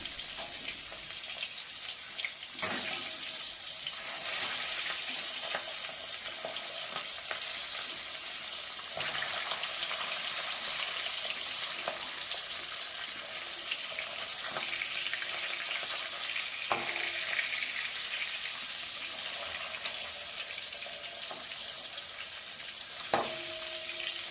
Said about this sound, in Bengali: প্রথমে মাছের মাথাটাকে ভেজে নিচ্ছি